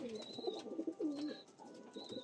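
Pigeons cooing in a loft of Fullshira bloodline racing pigeons, soft repeated throaty coos rising and falling in a steady rhythm, close and fairly quiet, with faint higher chirps behind.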